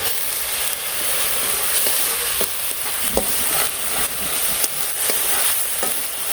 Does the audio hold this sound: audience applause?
no